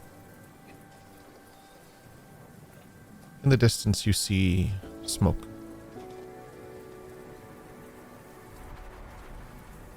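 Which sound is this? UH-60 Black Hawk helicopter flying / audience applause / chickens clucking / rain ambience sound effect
rain ambience sound effect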